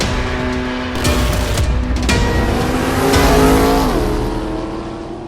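A supercharged Chevrolet Camaro ZL1 accelerates hard with a loud, close engine roar that climbs through rising revs, with brief sharp bursts and a swelling surge toward the end.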